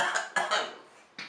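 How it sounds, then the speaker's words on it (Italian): A genuine cough during a live Italian radio interview, with several short, close, dry bursts spread across a brief moment and no talk over them. "non è scenica questa tosse, è vera!"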